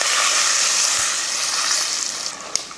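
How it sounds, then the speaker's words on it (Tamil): Masala paste sizzles steadily in a hot pan with turmeric powder, asafoetida and curry leaves, a close, continuous frying hiss with a couple of light utensil taps near the end. "இதை வதக்கிடுவோம்."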